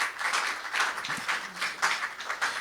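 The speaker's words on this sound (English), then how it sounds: "Let's give them a round of applause" An audience at a formal event applauds the moderators with a sustained round of clapping, steady and moderately loud throughout.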